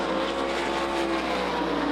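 Sprint race cars at the Knoxville Nationals speed down the backstretch, a sustained high engine drone with steady whining tones, moderately distant and continuous.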